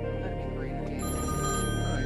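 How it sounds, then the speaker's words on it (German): A telephone rings at home in a cellar, a steady electronic ringing tone that lasts the whole moment under a constant background. "Das Telefon klingelt."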